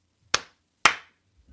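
Two sharp, close hand claps land about half a second apart, each one crisp and loud and followed by a quick decay, with near silence around them.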